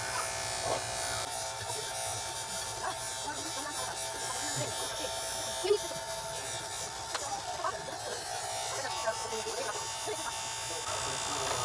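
Electric hair clippers buzz steadily close by as they cut hair, a constant droning hum running throughout, with people talking faintly over it.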